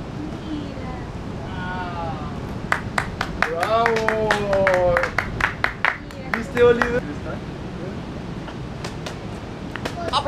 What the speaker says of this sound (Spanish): ¡Aplauso fuerte para los recién casados!